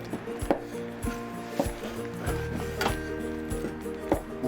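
A knife chops tough pufferfish skin finely on a board for jelly, with a steady run of sharp evenly spaced knocks over a low background hum.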